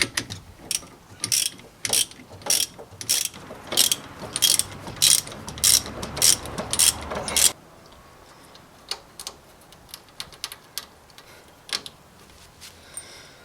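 A ratchet tightens a sway bar end link nut on a lifted Dodge Ram 1500, giving a fast, close run of crisp clicking bursts that stops abruptly, followed by a few scattered lighter clicks.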